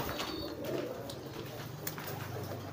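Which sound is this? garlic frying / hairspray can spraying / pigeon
pigeon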